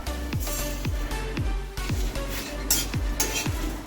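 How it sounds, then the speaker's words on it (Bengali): Whole cloves, cardamom, star anise and cinnamon dry roasting in an oil-free pan, a steady close dry sizzle with rhythmic scraping stirs about every half second, with no voices. "এই গোটা মশলাগুলোকে শুকনো খোলা আমি একটু ভাজছি।"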